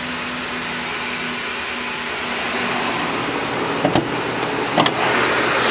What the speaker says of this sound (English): This truck sounds great and it runs very smooth.